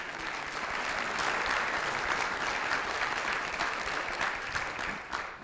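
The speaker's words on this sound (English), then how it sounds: "they just applauded you for getting to be married to me for 23 years" Church congregation applauding during a Sunday morning revival service, a steady, full burst of many hands clapping that fills the room, sustained and moderately loud before tapering off at the end.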